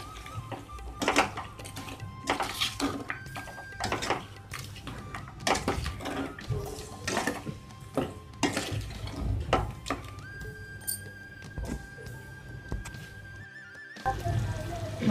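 A spoon stirs ghati masala into chicken curry in a pot, giving a series of irregular scraping and knocking strokes against the vessel, close and moderately loud, with a faint steady tone beneath.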